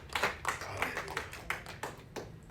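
A church congregation at a worship service claps in scattered, fairly quiet bursts, roughly a half-dozen distinct claps and taps with a soft murmur in the room.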